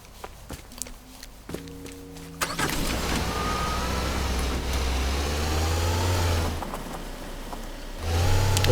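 A car engine in the video game Teardown starts and settles into a steady droning hum, preceded by soft clicks and a short tonal chime, then dips and rises again near the end.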